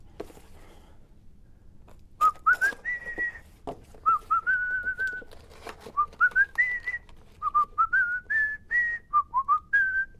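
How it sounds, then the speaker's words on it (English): A person whistles a tune in short, clear melodic phrases with brief pauses between them, close and fairly loud, with faint handling clatter of a mailbag parcel underneath. "Sorry, just had to finish the whistle there."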